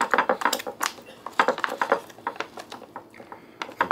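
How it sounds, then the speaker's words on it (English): A spoon stirs rehydrated freeze-dried breakfast skillet in a pot, giving close, irregular scraping and wet squishing clicks in quick bursts with brief pauses. "Give that a little stir."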